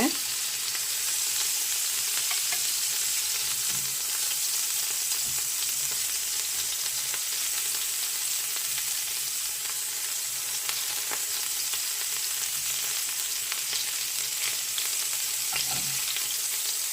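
Cabbage rolls frying in a pan, a steady close sizzle and crackle of hot oil running evenly throughout with a few soft stirring clicks.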